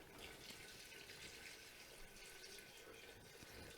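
Water pours steadily into a dish in a kitchen, giving a soft, continuous splashing trickle heard close up and alone for a few seconds.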